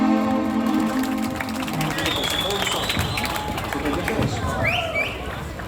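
Audience applause and crowd noise at a Christmas bazaar show fill the whole stretch as a steady, dense wash of clapping with murmuring voices, opening over a fading musical tone.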